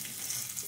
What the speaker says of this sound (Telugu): ఈ గోందు వేయిస్తున్నాను అనమాట.